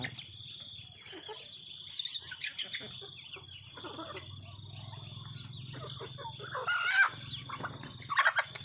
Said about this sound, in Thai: มาให้อาหารน้องไก่แล้วนะคะตอนเช้า